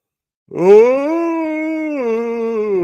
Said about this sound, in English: Oh, I turned that yawn into a really, really bad opera singer thingy.